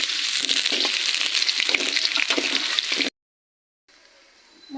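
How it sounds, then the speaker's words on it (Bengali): Onions sizzle and crackle steadily in hot oil in a pan with cinnamon, cardamom and cloves, loud and close for about three seconds before going silent, then a fainter hiss returns. "পেঁয়াজটা আমি একটু ভাজে নিব সুন্দর করে।"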